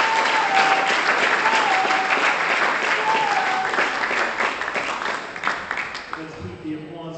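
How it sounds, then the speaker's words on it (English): Spectators at a squash tournament final in Bermuda applaud loudly and continuously, the clapping thinning toward the end as a voice begins speaking, with a few whistles cutting through early on. "keep the applause going"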